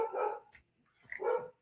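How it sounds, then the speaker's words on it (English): Two sharp barks from a dog nearby, separated by a short pause, with nothing else audible. "Sorry, everybody, that's my dog."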